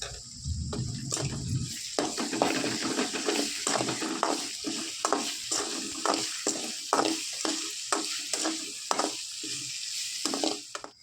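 Ginger garlic paste frying in oil while being stirred, with a steady sizzle broken by repeated rhythmic scraping strokes of a spoon across the pan, close and clear.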